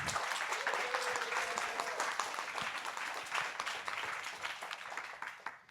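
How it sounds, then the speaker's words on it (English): An audience at a final project pitch event breaks into loud, sustained applause, with dense clapping that holds steady for several seconds and then begins to thin out. "Please give a big round of applause for their project"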